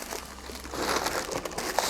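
A large plastic package from a comic book shipment crinkles continuously as it is handled close up, a dense, loud rustle lasting the full two seconds without any talking.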